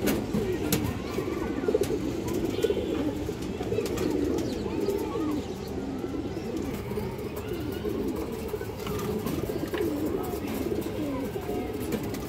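High-flyer pigeons of breeds such as red Geara, silver and khaki coo continuously in a dense, overlapping chorus from many birds nearby, a steady murmuring rumble without pause.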